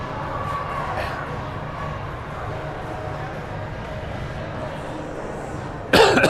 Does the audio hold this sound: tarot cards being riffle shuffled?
no